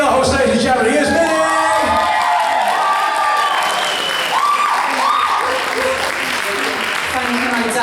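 Audience applause and cheering with whoops at an awards ceremony, greeting the host: dense, steady clapping from a nearby crowd for several seconds, with amplified voices and shouts rising over it.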